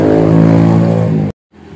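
A motorbike engine droning loudly nearby on a busy market day, then abruptly cutting off before quieter traffic resumes.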